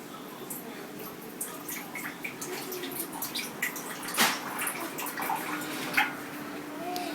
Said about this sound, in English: I'm gonna throw, or pour rather, 2 ounces in my measuring cup.